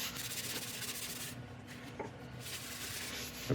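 Abrasive paste is buffed into a turned redwood piece on a lathe, giving a continuous close rubbing, sanding-like hiss with a steady motor hum that dips briefly midway.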